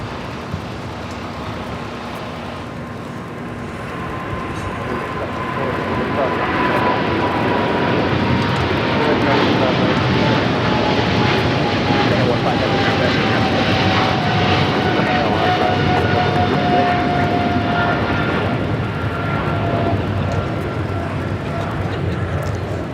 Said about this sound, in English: This is Japan Airlines Flight 15 taking off to Tokyo, Haneda on the 777-300ER.